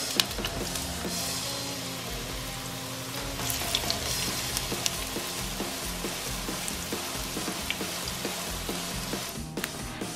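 Cauliflower latkes fry in hot oil with a continuous, dense crackling sizzle, close and steady throughout, with occasional louder pops.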